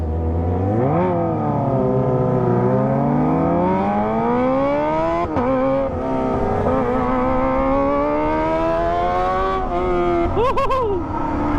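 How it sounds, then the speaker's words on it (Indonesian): A Kawasaki ZX25R motorcycle with a loud, raspy aftermarket Toce exhaust revs repeatedly toward the limiter, pitch climbing and dropping in long sweeps, close by and continuous throughout. "Suaranya emang paling berisik ya kalau kita pakai knalpot Toce guys"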